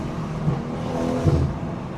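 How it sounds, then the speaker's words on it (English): A BMW B58 engine fitted with a big downpipe roars through its exhaust with a deep, rumbling note. Short bursts of brap swell up near the middle and again toward the end. "the famous B58 brap,"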